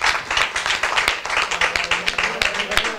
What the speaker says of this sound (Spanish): Este aplauso para ellas